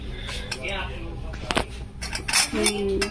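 Small metal pots and utensils clink and clatter as they are handled in a busy kitchenware shop during rain, with bright chinks and scrapes over constant background noise and people talking.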